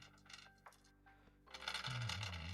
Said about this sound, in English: Ooh, dice sound effects.